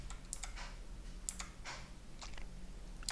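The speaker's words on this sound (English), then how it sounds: "Copy this. And type it in." Quiet, close keystrokes on a computer keyboard come in irregular bursts of clicks and taps with short pauses between them, and nobody speaks.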